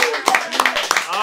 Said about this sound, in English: I love you guys are clapping because you have no idea what we're going to do